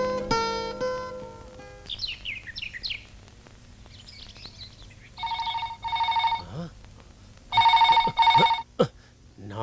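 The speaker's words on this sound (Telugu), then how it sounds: "ఫోన్ కొడుతూనే ఉంది, అస్సలు తీయట్లేదే." In a film scene at an estate, a telephone rings unanswered in two loud, repeated trilling bursts, preceded by brief musical tones and chirpy sounds against a quiet background.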